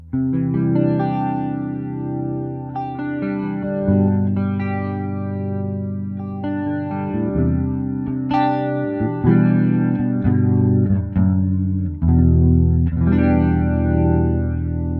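Electric guitar played through an AmpliTube 5 boutique amp model on its slow setting, loud chords and single-note runs with a chorused, slightly distorted tone, sustained and ringing, with no speech.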